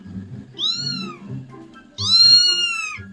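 A cat gives two loud, drawn-out meows close by, the second stronger and rising, with softer low rustling and background noise between the calls.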